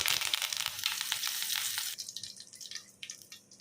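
Mustard seeds, cumin and curry leaves fry in hot oil with a loud, steady sizzle and crackle. The sound drops to quieter spitting and popping partway through.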